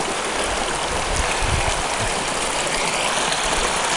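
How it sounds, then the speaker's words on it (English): A creek in Squaw Creek Canyon, running high, gives a steady loud broadband rush of flowing water close by, continuous and unbroken, with no voices. "There's the creek."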